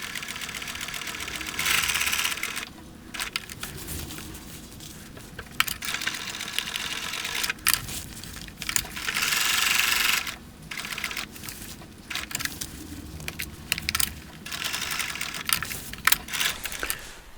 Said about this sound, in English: So I did the first stitch just to catch the fabric together.